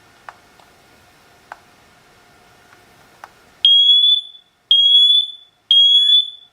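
A SITERWELL hardwired interconnected smoke and carbon monoxide detector under test: a few faint clicks, then three loud, piercing, high-pitched alarm beeps in an even pattern, close by.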